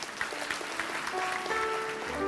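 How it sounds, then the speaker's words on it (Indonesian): Church congregation applauding during a sermon, a fairly soft, steady wash of clapping with a few tonal sounds rising toward the end. "kasih tepuk tangan untuk Tuhan"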